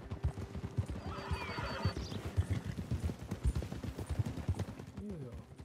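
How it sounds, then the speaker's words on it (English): A horse whinnies amid steady hoof clip-clops in Red Dead Redemption 2, with background game sounds and some indistinct voices underneath. "a horse getting hungry"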